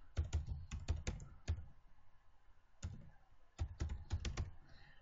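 A website name typed on a computer keyboard: quiet, close key clicks in quick bursts, a brief pause, then another rapid flurry of taps, with no speech.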